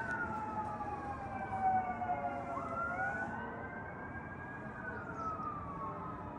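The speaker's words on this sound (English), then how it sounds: "Just some sirens from the main road." Emergency sirens wail from a nearby main road, two overlapping tones rising and falling steadily and heard at a moderate distance over a low background rumble.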